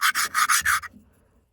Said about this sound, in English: Now, you can use sandpaper.